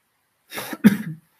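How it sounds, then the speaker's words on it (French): A close, raspy cough in two quick bursts, the second one harsher and followed by a short throaty trail. "Mais ça te fait tousser."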